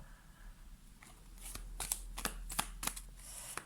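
Tarot cards being shuffled by hand, a series of sharp riffling snaps and crisp flutters coming in quick bursts over a low steady hum, close and fairly quiet, with no talking.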